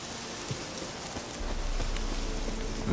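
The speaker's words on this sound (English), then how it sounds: "Looks like rain." In-game rain in The Witcher 3 falls as a broad, steady hiss that grows heavier midway, accompanied by faint horse hoofbeats and scattered light taps.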